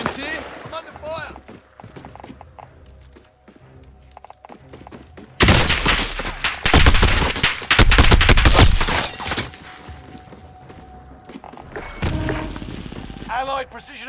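Bursts of Call of Duty: Vanguard multiplayer gunfire, with sharp scattered shots and then a loud sustained fusillade of rapid automatic fire and impacts, easing off before another short volley; voices talk at times in the mix.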